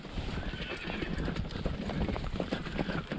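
Hooves clop steadily on the ground nearby while a horse whinnies, set against a constant outdoor hiss, during Nelore cattle herding on a ranch in Brazil's sertão.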